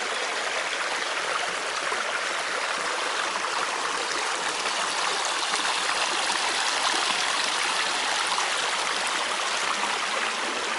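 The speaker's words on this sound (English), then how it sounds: "See, the water runs down there" A stream of water running down through the Roman baths at Manilva on the Costa del Sol, a steady, loud rushing trickle that continues unbroken and close by, with no voices.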